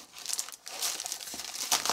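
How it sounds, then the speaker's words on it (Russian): Chinese adhesive tape being handled and pulled, giving a continuous close crinkling and crackling with brief tearing bursts, fairly quiet, no voices. "Ихний китайский скотч."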